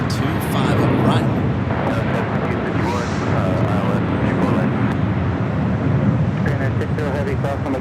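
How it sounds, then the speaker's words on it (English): A United Boeing 787 Dreamliner bound for Tokyo Haneda rolls down runway 25 right at Los Angeles International Airport, a steady, loud broadband engine roar filling the whole stretch with no letup. "Got the United Dreamliner heading to Tokyo Haneda, rolling down to 25 right."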